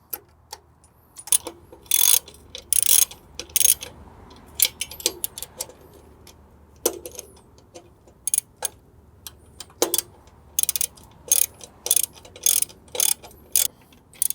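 A ratchet wrench tightens the mounting bolts on a Seachoice boat trailer winch. It gives short, sharp clicking bursts in an uneven rhythm, close up, with no voices.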